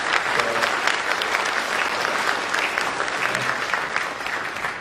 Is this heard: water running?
no